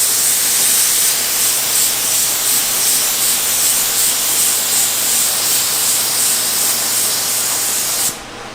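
Black lacquer paint sprayed onto an abandoned Pontiac car body in one loud, continuous close-up hiss that cuts off abruptly near the end.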